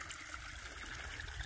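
A small mountain stream by Woods Hole Shelter on the Appalachian Trail flows steadily with soft, constant trickling and babbling, close by and on its own.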